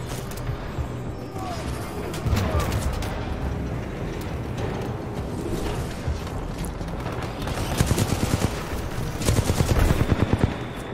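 Repeated close-range blasts from the Mozambique pistol in the shooter Titanfall 2, dense gunfire throughout with louder rapid shot bursts near the end over busy combat noise, with a voice talking at times.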